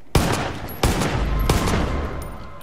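Shots from a newly picked-up gun in the video game Far Cry 5: three sharp loud reports spaced under a second apart, each trailing into a long echoing rattle and rumble, with no talking.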